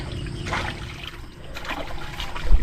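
Swollen river water flows strongly after a sudden rise without rain, a close rushing and splashing stream that swells and surges in waves over a few seconds with no talk.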